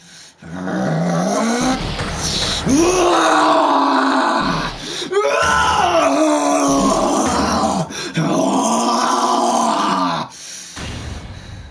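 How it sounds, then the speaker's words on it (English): Von Karma in Phoenix Wright: Ace Attorney lets out a loud, drawn-out, strained scream: three long groaning, wailing bursts with brief gaps, close and harsh. "That scream! I've heard that scream before."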